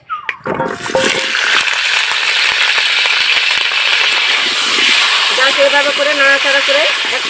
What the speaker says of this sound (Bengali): এবার আমি আলুগুলো ভেজে নেব হালকা করে